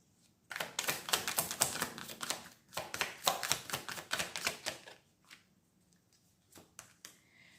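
Cards are pulled and shuffled from a deck in quick bursts of crisp riffling clicks and snaps, close and clear, with a few scattered single flicks afterward and no talk.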